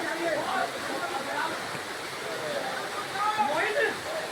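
A waterfall near Rishikesh in Uttarakhand pours down in a steady, close, full roar of rushing water, with a voice talking faintly over it now and then.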